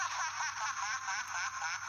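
Arcade-version Strider game audio playing on an Evercade EXP handheld: bright, warbling chiptune-style music and effects, continuous and dense, with no voices over it.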